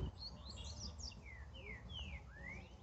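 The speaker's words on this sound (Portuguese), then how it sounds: "Passarinho do amigo ali em cima do carro ali, dando uns cantos." A green-winged saltator perched on top of a car outdoors sings a series of clear, bright whistled phrases with rising and falling notes, near and distinct over low background hum.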